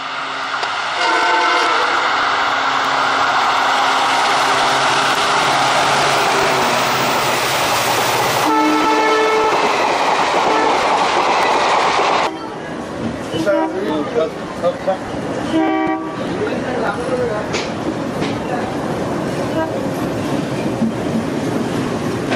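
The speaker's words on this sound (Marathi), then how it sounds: "सुपरफास्ट गाड्यांसह पॅसेंजर गाड्याही ये जा करत आहेत" A train rumbles past on the tracks with a loud horn blast, then the rhythmic clatter of wheels and carriages continues close by; voices are heard faintly.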